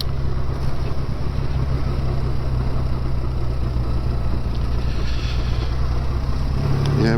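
Loud, steady rumbling exhaust of a 1970s BSA Starfire motorcycle with a noisy pipe, heard on a ride along country B roads, with continuous engine drone and wind noise and no talking.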